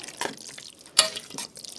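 An eggplant preserve mixture is stirred, giving a few wet, scraping swishes spaced irregularly, one louder clack near the middle, close and fairly quiet.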